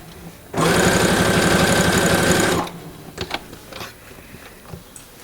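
A sewing machine runs loud and steady for about two seconds, roughly basting fabric layers together for an earbud case, then stops, leaving quiet handling clicks.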